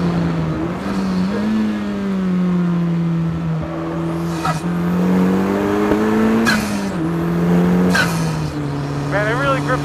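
An Ariel Atom 4 fitted with a Honda Civic Type R engine drives hard on a race track, its engine note rising and falling steadily through gear changes and corners, loud and close throughout.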